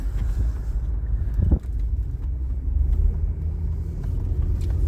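A car drives slowly through a small town, its low steady engine rumble and road noise filling the cabin with faint wind buffeting and no talk.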